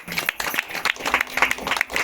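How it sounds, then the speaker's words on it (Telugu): A church congregation claps hard and fast in a dense burst of overlapping, sharp hand claps that fills the room. "గట్టిగా చప్పట్లు కొట్టు"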